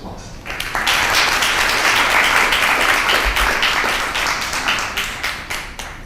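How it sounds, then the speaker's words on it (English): Audience applause welcomes a lecturer on traditional Korean medicine, a loud, sustained round of dense clapping that swells quickly and tapers slightly toward the end. "Now please welcome Dr. Don Baker with a warm round of applause."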